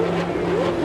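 A Formula One car engine at Spa in the F1 Racing Championship PS2 game drones at high revs for under a second, one sustained buzzing tone that climbs slightly in pitch.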